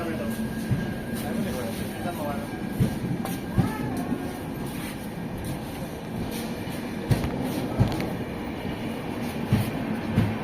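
A passing train's wheels clack rhythmically over rail joints with a steady rumble, heard close and at moderate loudness. Voices chatter underneath throughout.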